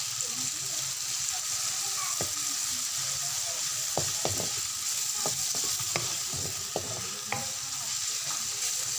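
Shrimp sizzle and fry in a pan with butter and garlic, a steady bright hiss under scattered stirring clicks and scrapes of a utensil against the pan.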